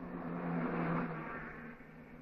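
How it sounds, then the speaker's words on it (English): Steady road traffic from a 1950s street scene, cars driving past in a continuous broad motor rumble with a low engine hum, fairly loud and unbroken, no voices. "There's lots of traffic on the road."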